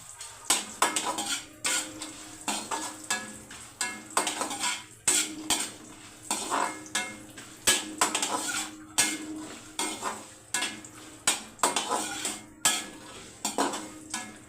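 Almonds and cashews are roasted in a pan while being stirred, a utensil scraping and clinking against the metal in a steady, repeated rhythm, close up, with a faint sizzle underneath.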